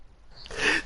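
One quick, sharp sneeze erupts near the end of a short quiet stretch, close and fairly loud, with no talking.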